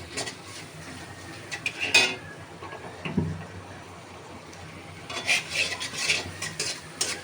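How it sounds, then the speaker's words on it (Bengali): Potatoes with green chilies and a little chili powder being stir-fried in a pan, a spatula scraping and clinking against the metal in scattered bursts, with a few louder scrapes near the end and a faint sizzle underneath. "এবার আরেকটু ভুনে নিচ্ছি"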